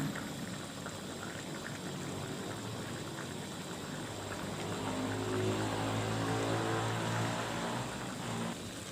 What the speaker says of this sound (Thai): ต่อไปเราจะตุ๋นซี่โครงหมูให้เปื่อยเลยนะคะ